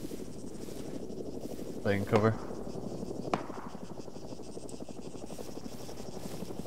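Helicopter in the video game Arma 3, a steady rotor drone running throughout behind players talking over voice chat.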